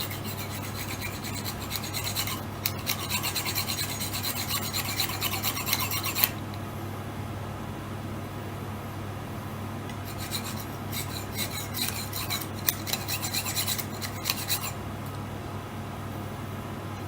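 An FGX Wasp plastic knife is sharpened with repeated rasping strokes in two separate runs of steady scraping, close and moderately loud, separated by a quieter stretch of faint rubbing.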